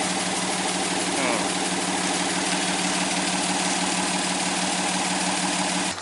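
Vehicle engine running steadily while driving down a hill on a property where a Woodmizer sawmill crane is being built, a constant loud hum with rumbling vibration and no break.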